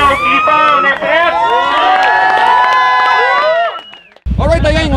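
Crowd at a mud festival for off-road quads, loud and sustained cheering, whooping and shouting for about four seconds, then a brief drop before the noise surges back.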